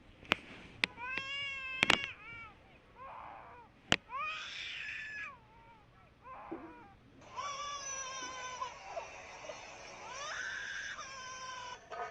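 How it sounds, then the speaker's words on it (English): A cat meows repeatedly, several drawn-out and varied cries with sharp clicks between them, fairly close and clear, ending in one long wavering meow. "It's a meow."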